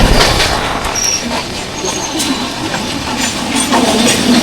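The Kanchankanya Express rumbles through Dum Dum railway junction, heard from inside the moving train with continuous wheel noise, a few faint squeals and clatter, loud and steady throughout.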